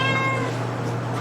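A cat gives a single brief meow at a campground, close and clear, fading into a steady background hum.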